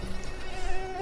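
Mosquitoes whine in a thin, steady buzz, faint against a low background rumble.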